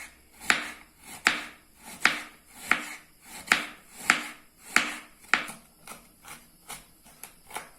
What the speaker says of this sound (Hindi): ये इस तरह से गोभी को भी बिल्कुल बारीक बारीक चॉप करना है